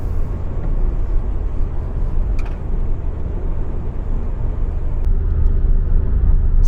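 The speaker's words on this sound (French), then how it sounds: "110 km/h sur voie rapide avec le micro d'ambiance de la caméra pour tester le niveau sonore de ce nouveau Kangoo" Steady, loud road and engine rumble inside a Renault Kangoo TCe 130 Intens cruising at 110 km/h on an expressway, a dense continuous drone with faint brief ticks and no talking.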